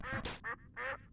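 A duck quacking sound effect plays during a Jump King game stream, three or four loud, nasal quacks in quick succession, close and clear.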